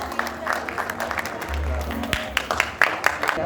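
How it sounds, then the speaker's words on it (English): Audience applause at an International Women's Day award ceremony, a busy, fairly loud patter of clapping from a crowd with a few louder individual claps and some voices mixed in. "Audience, please give a big round of applause."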